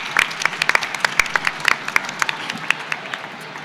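A small audience claps at a manga event talk, producing a steady run of distinct, fairly crisp individual claps rather than a dense roar, close and moderately loud.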